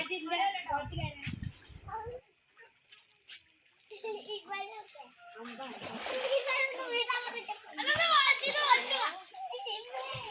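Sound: children splashing while bathing in water

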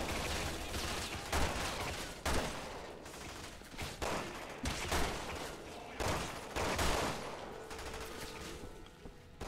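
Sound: gunfire in the video game Resident Evil 6

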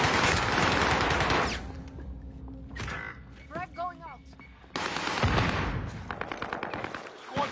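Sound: gunfire in the video game Squad

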